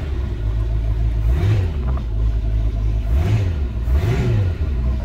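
A 1987 Stingray boat's 5.7 Mercruiser 350 V8 idles in a steady, loud, close low rumble, with a few gentle blips of throttle rising and falling over it.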